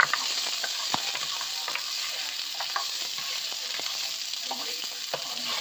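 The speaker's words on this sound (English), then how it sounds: "I always keep that sizzle going." Chopped garlic and browned meat, with a few carrots, sizzle loudly in a hot pan while being stirred, a continuous crackling fry punctuated by scraping and clinks of the utensil, close up and without talk.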